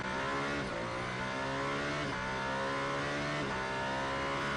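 An Alpine hypercar in World Endurance Championship racing at Spa howls down the Kemmel Straight, its loud engine note climbing steadily through the gears with brief shift dips, continuous and close.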